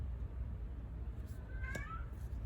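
A pet cat lets out one short, faint meow indoors, brief and distant under a steady low background hum.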